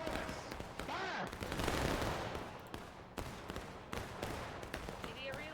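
A musket volley in the Civil War-era game Smoke and Steel, with many sharp cracks firing in ragged succession, loud and close, then scattered single shots rolling on amid battlefield noise, with voices talking underneath.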